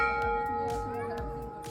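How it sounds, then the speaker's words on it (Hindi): Bells at Golu Devta Temple in Uttarakhand, an old temple hung with countless bells, struck repeatedly in a loose rhythm, several clangs with long ringing tones overlapping, moderately near, with a voice speaking over them. "आपको चारों तरफ ये घंटियाँ देखने को मिलेंगी और इसकी ही आवाज़ आपके कानों में गूंजती रहेगी।"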